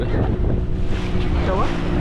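A boat moves across open water in strong wind. Heavy gusts buffet the microphone, splashing water and a low engine rumble run underneath, and a faint voice can be heard.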